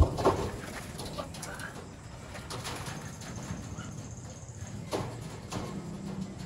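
Racing pigeons coo softly from close by in a loft, with low, repeated murmuring calls over a constant background and a voice speaking faintly.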